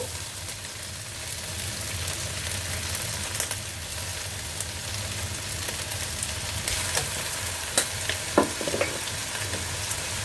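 Kimchi fried rice stir-frying in a pan with sesame oil, a steady close sizzle and crackle running throughout with occasional sharper pops and spatula scrapes near the end, no voices.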